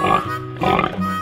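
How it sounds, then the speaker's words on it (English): A cartoon pig gives three short, nasal, voiced oinks in quick succession, loud and close, with no other sound around them. "Pig."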